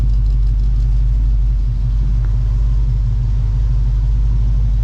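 The 428 V8 engine of a 1969 Pontiac Bonneville Safari Wagon rumbles steadily at idle, a deep, loud, even throb close by, with no talking.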